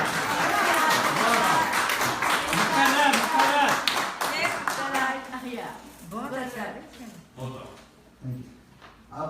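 Audience clapping at an Urdu poetry mushaira, a sustained burst of applause from a gathered crowd that gradually thins out, with a voice speaking over the tail end.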